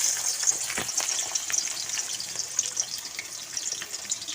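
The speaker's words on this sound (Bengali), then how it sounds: "তেল গরম করে নিয়েছি, এবার তেলের মধ্যে আমি পেঁয়াজটা ছেড়ে দেবো।" Sliced onion dropped into hot oil in a pan for a fish dish, giving a steady, fairly close sizzle and hiss that runs without a break, with faint stirring and no talk.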